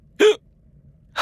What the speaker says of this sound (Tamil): அதனாலதான் உங்களுக்கு இப்படி விக்கல் வருது.